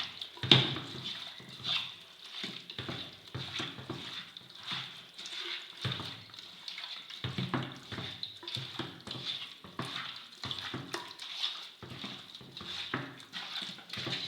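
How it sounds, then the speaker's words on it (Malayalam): Chicken pieces being washed in water with turmeric powder, a steady run of wet sloshing and squelching as the pieces are stirred and rubbed, close and moderately quiet with rhythmic splashy pulses throughout. "നമുക്ക് നല്ലോണം ഇളക്കിയിട്ടൊന്ന് കഴുകിയെടുക്കാം."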